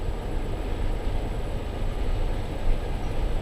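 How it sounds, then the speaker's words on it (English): A train rumbles along the tracks near a trestle, a steady broadband roar that stays loud and continuous throughout without voices. "But there comes the train right there."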